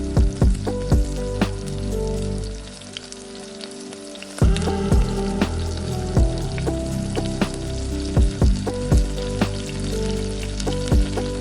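Spice masala of salt, red chilli powder, turmeric and Kashmiri red chilli powder fries in oil, a loud, dense sizzle crackling with sharp pops and spatters, briefly quieter midway before surging again.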